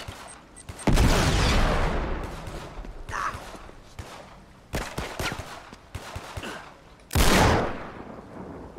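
Pistol shots ring out in a fight in the video game Uncharted 3. Sharp, loud single cracks come at irregular intervals, some with short echoing tails, between stretches of quieter game sound.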